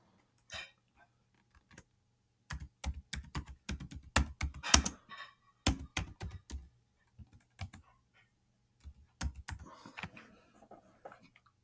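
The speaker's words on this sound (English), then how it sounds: "So I'm going to type in there now to type in the title." Someone types a title on a computer keyboard, producing irregular clusters of crisp key clicks with short gaps between bursts, close up and clear against a quiet background.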